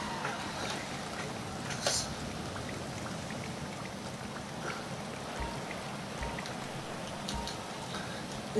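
Steady rain patters on a surface, with scattered drips ticking through a continuous wash; a few faint voices are briefly audible in the background.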